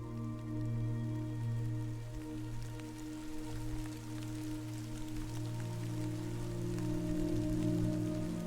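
Steady rain patters in Death Stranding, a soft, continuous hiss of drops beneath a low, sustained ambient drone, with no voices.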